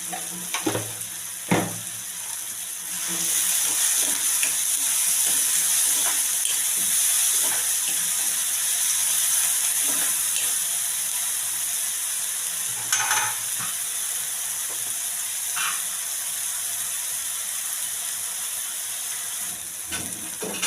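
Onion and tomato with a little salt cooking in a pan, a continuous close sizzle with occasional scraping stirs and clicks through it.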